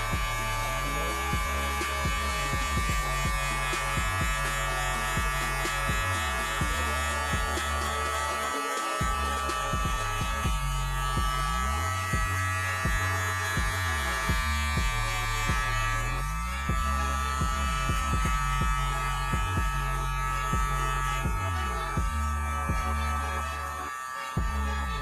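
Electric hair clippers with the blade in the open position buzzing steadily through a skin fade haircut, a close, continuous motor hum whose pitch and body shift as the blade moves against the hair, briefly dipping a few times.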